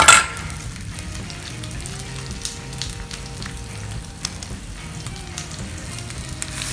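Miyazaki A5 Wagyu ribeye frying on a flat-top griddle for cheesesteaks, a steady loud sizzle that runs without a break, with a few scrapes and clinks of a spatula mixed in.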